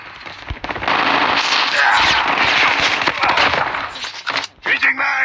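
Rapid, loud shotgun blasts and gunfire in a video game battle, dense and continuous with cracks overlapping, followed by a short gap and more shots, with voices calling out over the fire.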